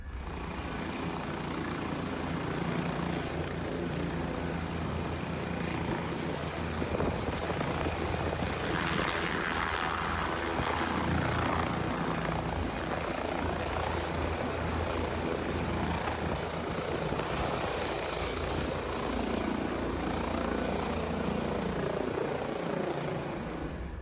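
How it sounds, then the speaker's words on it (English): A helicopter lifts off from a stadium pitch, its rotor and engine roaring steadily and loud throughout, swelling slightly as it climbs, with no voices. "The helicopter lifted off from the pitch, just as it had done many times before."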